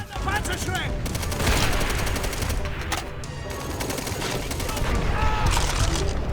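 Dense gunfire fills a World War II shooter, the Call of Duty China at War mod, with rapid automatic bursts and overlapping shots throughout; someone talks over the shooting.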